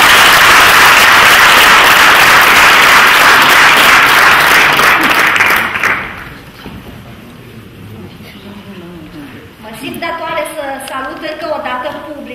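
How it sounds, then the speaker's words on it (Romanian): A theatre audience at a national dramatic arts festival in Bacău applauds loudly and continuously for about six seconds. The clapping then fades out and someone speaks over a quieter hall. "Aplauze, mă rog!"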